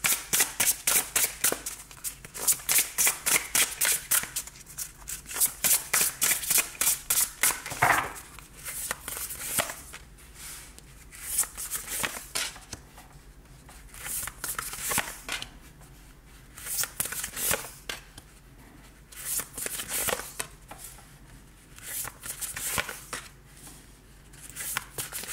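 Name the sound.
shuffling tarot cards for a reading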